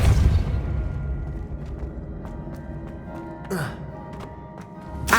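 A Depulso spell in Hogwarts Legacy goes off as a forceful blast that opens loud and decays, followed by a brief whooshing burst midway and a few sharp clicks over a low ambient hum.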